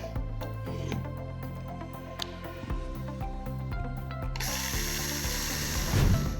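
Power drill boring a small hole into an outdoor roller shutter box, a whirring mechanical whine with ratcheting clicks, close and steady, rising in intensity near the end.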